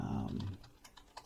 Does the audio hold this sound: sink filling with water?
no